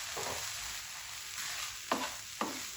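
Red bell pepper and green chillies are stirred in a frying pan over a steady sizzle, with a few distinct scraping strokes of the spoon standing out near the end.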